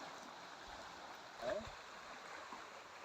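Water from the Kaveri flowing steadily in a stream beside farmland, a soft continuous rushing and gurgle heard close by, with a brief louder splash midway.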